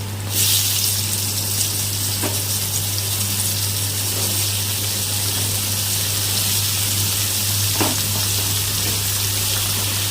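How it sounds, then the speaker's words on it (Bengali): Ridge gourd frying in a pan with partly fried potatoes, giving a loud, steady close sizzle and hiss under a low, constant hum. "এখন আমি এর মধ্যে ঝিঙাগুলো দিয়ে দেব"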